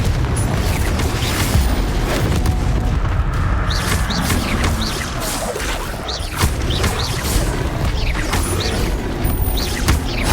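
Repeated Confringo blasting spells in Hogwarts Legacy on Xbox Series X, a dense run of loud booms and crashing impacts layered over continuous combat noise.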